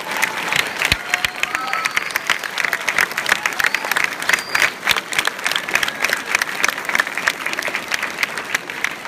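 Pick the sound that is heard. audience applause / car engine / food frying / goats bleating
audience applause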